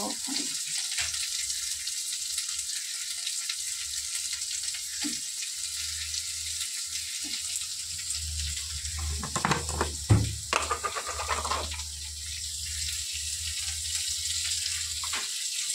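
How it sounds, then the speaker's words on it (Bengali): A soft, steady sizzle of bitter gourd frying in oil runs throughout, with a brief burst of clattering and stirring partway through. "চলো উচ্ছেটা আমি ভেজে নিই ভালো করে।"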